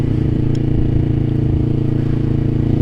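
Motorcycle fitted with a DX Generation Sphere Oval aftermarket exhaust, idling close up with a loud, steady, throbbing low burble and no talk.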